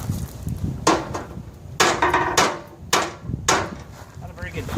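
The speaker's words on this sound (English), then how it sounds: "I just go in and tap this out with a big hammer." Big hammer striking parts on a 1969 John Deere 140 tractor, four loud metallic whacks spaced about a second apart, close by, with shuffling and brief background sound between blows.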